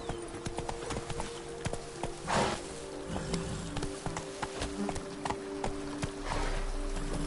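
Hooves of the horse Roach in The Witcher 3 video game, a fast steady clip-clop of running strides over continuous game ambience, fairly close and even.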